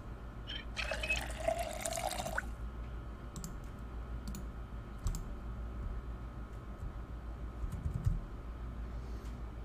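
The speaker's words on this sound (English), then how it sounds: "Let's fill our water bottle" A short burst of running water pours for about two seconds as a water bottle is filled in the video game Project Zomboid, then stops, leaving faint clicks and taps over a steady low hum.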